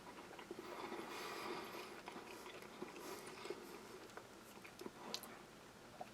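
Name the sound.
biting and chewing a filled tortilla from a Norwegian field ration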